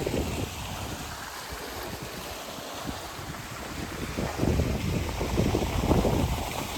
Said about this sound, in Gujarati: પાણી જો આ રીતનું પાણી આવે છે કુંડીમાં, અને કુંડીમાંથી જાય છે ખેતરમાં.